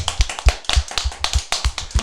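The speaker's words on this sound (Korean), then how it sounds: "박수 쳐주세요" A few people clap at a small panel gathering for a comics-and-classics podcast's New Year episode. The sharp claps are close and uneven, with no talk over them.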